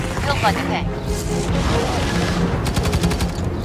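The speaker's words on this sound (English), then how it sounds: "Laying down covering fire." Rapid gunfire bursts from the Dreadnought battleframe's heavy weapon in the shooter game Firefall, loud and continuous over game effects, with someone talking over it.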